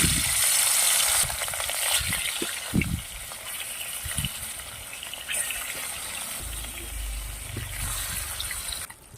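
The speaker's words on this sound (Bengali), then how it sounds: "এবার মাছগুলো ভেজে নিচ্ছি" Pabda fish frying in a pan of hot oil crackles and sizzles steadily, with a few utensil knocks and a low rumble toward the end, no voices.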